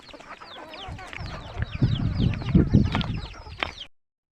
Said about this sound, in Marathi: माझी लाडाची कोंबडी आहे हीच आहे